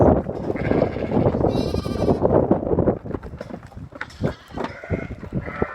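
Ile-de-France lambs bleating in a farm pen, several overlapping close cries mixed with shuffling and rustling movement, fairly loud throughout.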